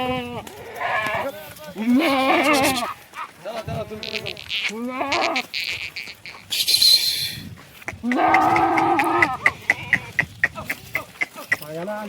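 Kathiawadi goats bleat repeatedly and loudly at a livestock sale, their wavering calls overlapping with nearby voices and farmyard noise, ending in sharp clicking knocks.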